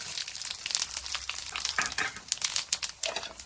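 Sesame seeds sizzling and crackling in hot oil as a tempering for thin poha chivda, a dense, steady crackle with sharp pops close by and no voices.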